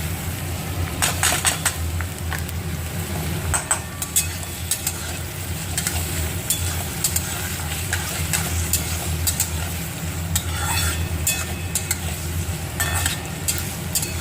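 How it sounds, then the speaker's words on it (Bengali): Chopped onion hits hot oil, with green chilli already in the pan for a village-style tempering. A loud, continuous sizzle is layered with frequent sharp clinks and scrapes of stirring against the pan, up close, and no one talks. "আচ্ছা তেলটা এবার গরম হোক আচ্ছা এবার আমি দিয়ে দেব এখানে দেখো পেঁয়াজ কুচুনো"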